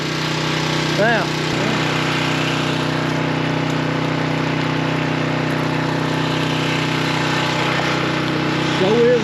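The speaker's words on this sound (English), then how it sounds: "There's my old Kubota right there." An old Kubota tractor engine idles nearby in a steady, even drone on a workday outdoors, with a brief spoken word early on.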